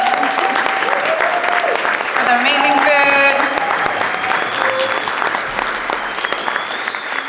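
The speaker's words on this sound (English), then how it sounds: "Let's give a big round of applause" A crowd at a nonprofit advocacy breakfast claps loudly and steadily throughout, with a voice briefly speaking over the applause near the start.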